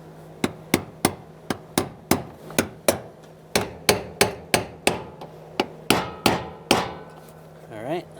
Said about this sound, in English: If not, use your brass punch. Just tap it on until it's all the way